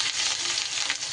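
A spoonful of crushed ginger sizzles in hot oil for shukto dal, giving a brief, even, close hiss with no pause.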